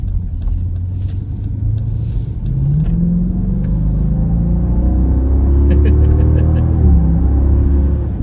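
A Jeep Grand Cherokee SRT Night Edition accelerates hard, its engine note rising steadily in pitch as it pulls through the gears, loud and close with a deep rumble throughout.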